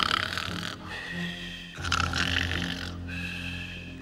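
A cartoon bear snores in long, deep, rumbling breaths that rise and fall, with a steady drone underneath and no talking.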